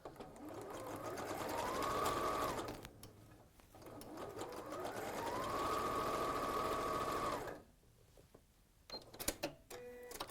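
A sewing machine stitches fabric in two sustained whirring runs that ramp up to a steady hum, separated by a short pause. It stops near the end and leaves faint clicks and handling noises.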